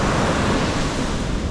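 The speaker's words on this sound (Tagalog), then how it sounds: "Ang lakas ng hampas ng alon." Ocean waves crash and wash on a beach in a loud, dense roar of surf, steady and close with no voices.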